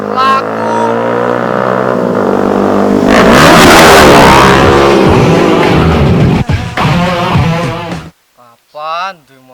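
A motorcycle engine revs loud and close, swelling to a roaring peak before cutting off, followed by a short burst of talking.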